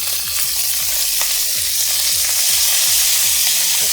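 Browned sausage and broccoli fry loudly in a skillet, with a constant close hiss and crackle over a steady low hum that has repeating wavering tones, and no talk.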